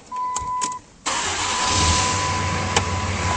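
A 2007 Dodge Ram 2500 with a 5.9L diesel engine cranks briefly, then catches and settles into a loud, steady idle; a faint whine precedes the start.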